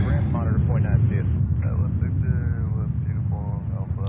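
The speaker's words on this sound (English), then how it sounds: "787-9 Dreamliner." A Boeing 787-9 Dreamliner rumbles at an airport in New York, a steady low broadband roar present throughout while a person talks over it.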